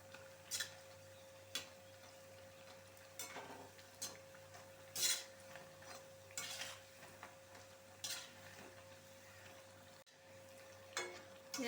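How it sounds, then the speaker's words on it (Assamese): Pakora frying in a pan under a faint steady sizzle, with repeated clinks and scrapes of a utensil turning the pieces at irregular intervals, and a low constant hum throughout. "এনেধৰণে এয়া ভাজিব লাগে, লুটিয়াই লুটিয়াই পকৰা টাইপত।"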